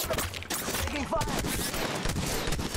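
Rapid automatic gunfire in a combat video game, loud and close, with dense overlapping bursts running throughout and a voice briefly shouting in the mix.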